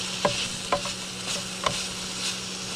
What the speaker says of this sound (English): And you stir it in.